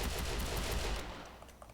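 Rapid gunfire in the Roblox Wild West game, a dense sustained burst of shots that cuts off after about a second, leaving faint trailing game sounds.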